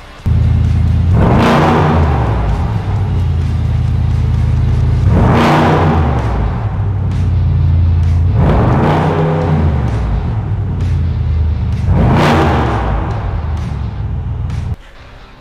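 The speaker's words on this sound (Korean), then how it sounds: "이 차량 배기음 듣고 가실게요." Mercedes-AMG S63 4MATIC+ Performance Edition (W222 S-Class) with a tuned exhaust, revved four times in loud, close bursts that rise and fall, each swell followed by a lower idle rumble.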